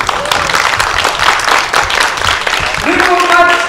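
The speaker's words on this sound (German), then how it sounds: "Applaus nochmal" Audience applause at a convention event, dense loud clapping filling the space for a few seconds while voices talk over it.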